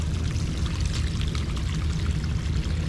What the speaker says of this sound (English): That's a constant flow of groundwater.